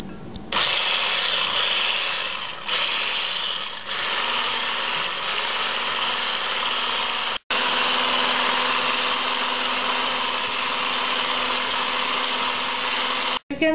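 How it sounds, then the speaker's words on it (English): An electric whisk whips heavy cream with sugar in a steady, close, high-pitched motor whine that holds throughout, with brief dips and two sharp cutoffs where it pauses. "I added here heavy whipping cream with some sugar, and now I am going to whisk it."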